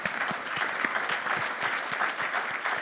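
An audience applauds a business panel at a commercial real estate event, a dense and steady wash of many hands clapping at full volume for the whole stretch, with no talk over it.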